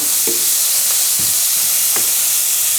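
Onions sizzle steadily in a hot frying pan, with a few soft scraping knocks as they are stirred around, close and continuous with no talk.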